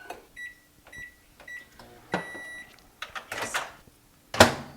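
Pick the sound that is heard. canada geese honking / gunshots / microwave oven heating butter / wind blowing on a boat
microwave oven heating butter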